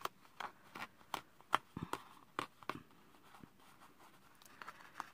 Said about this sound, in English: now let me fold this one over